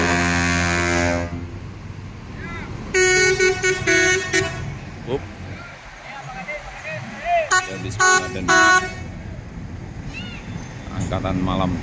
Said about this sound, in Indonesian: TAM Wisata sudah berangkat nih teman-teman. TAM Wisata menuju Malang.